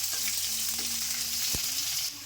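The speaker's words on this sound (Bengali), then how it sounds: "লাল লাল করে ভেজে নিই।" Chopped onion fries in hot oil in a kadai after whole cumin seeds go in, a steady close sizzle with a brief clatter partway through and no talk.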